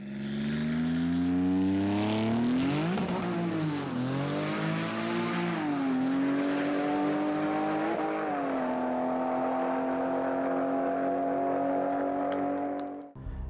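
A Porsche 997-platform drag car accelerates hard down a drag strip, its loud engine climbing through rising howls with dips at each gear change, sustained near and steady before cutting off abruptly at the end.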